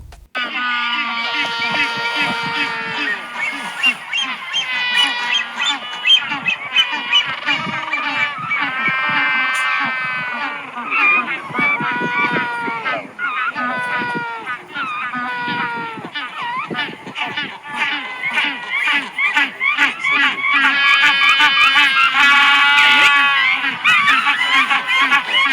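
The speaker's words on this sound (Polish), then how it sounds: "A tak pingwiny komunikują się między sobą." A colony of penguins in Patagonia calling to one another, a dense chorus of loud braying, honking cries that overlap continuously and rise and fall from near and farther birds.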